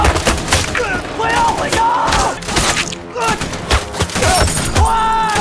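Rapid gunfire crackles throughout, with bursts of shots and heavy thumps over a busy, loud background and some voices mixed in, from a battle at a bridge in the Second Sino-Japanese War.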